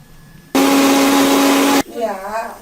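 A blender grinding batter roars loudly at a steady whine for just over a second, then cuts off abruptly as it winds down.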